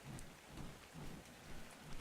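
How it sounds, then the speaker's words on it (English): Steady rain falls in the survival video game ARK, a soft continuous hiss with low rumbling swells that could be distant thunder, holding at an even, fairly quiet level with no voices. "It's raining outside."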